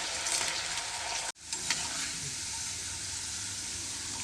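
Sliced potatoes fry in oil until browning for evening snacks, a close, even crackling sizzle with a brief dropout early on, then steady frying with light stirring.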